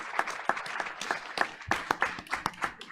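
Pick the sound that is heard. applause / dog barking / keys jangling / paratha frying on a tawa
applause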